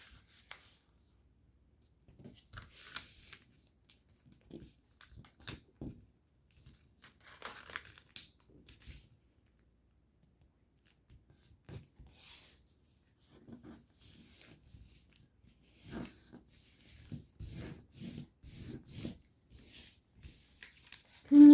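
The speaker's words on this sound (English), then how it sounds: "Then you're going to fold this in half." Paper being folded in half for a flare crinkles and rubs in soft, scattered bursts with quiet gaps between them, close by and fairly faint.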